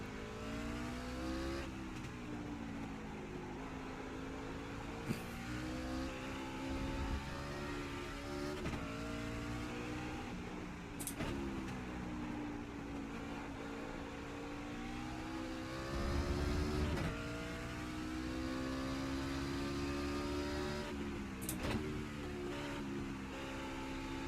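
A V8 race car engine in a racing video game at Mid-Ohio screams near 8,000 RPM, rising through gears with sharp shift breaks and tire squeal, steady and loud throughout, no voices.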